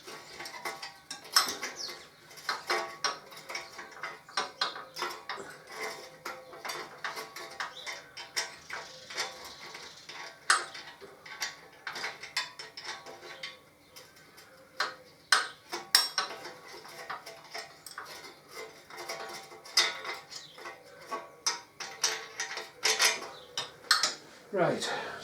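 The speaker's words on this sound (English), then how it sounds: "Right, so that's the nut and bolt out." Metal clinks, ratcheting and tool clatter as the swingarm nut and bolt are removed from a 2005 Harley-Davidson Electra Glide, with irregular close-up clanks and scrapes throughout and no talking.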